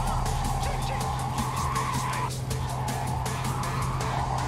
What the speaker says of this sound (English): Something wrong with the car? It's making a weird sound.